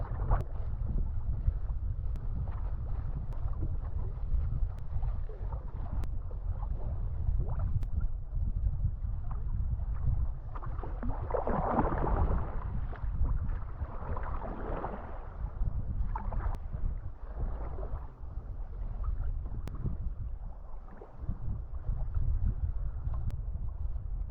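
Low, steady rushing of wind and water, with soft splashes of a kayak paddle dipping rhythmically into the open Adriatic Sea, nearby.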